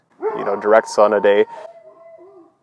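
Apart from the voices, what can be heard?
dog barking in the background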